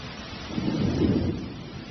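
A low rumble of thunder swells and fades over a steady wash of rain, muffled and distant.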